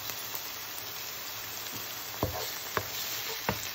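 Green beans and onion fry in oil in a pan, giving a faint, steady sizzle with a few sharp clicks and scrapes from stirring near the end.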